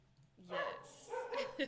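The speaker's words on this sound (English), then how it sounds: "I apologize for my dogs in the background." Several dogs bark and yip faintly in the background of a home phone call, a short burst of barking alongside a brief spoken word.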